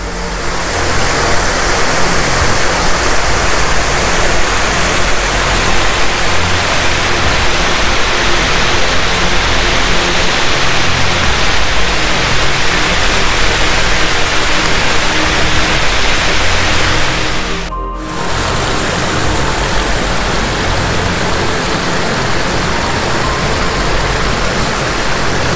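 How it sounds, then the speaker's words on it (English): Sour Milk Gill, a mountain stream falling from Bleaberry Tarn down to Buttermere, rushes with a loud, steady broadband roar close by, broken only by a brief dip near the middle. "So it's a sour milk gill. Flows out of Bleaberry Tarn and down to Buttermere."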